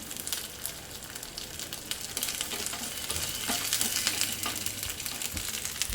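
Curry leaves dropped into hot oil for kadhi, sizzling and crackling in a dense, steady hiss close by, with faint stirring, no voices.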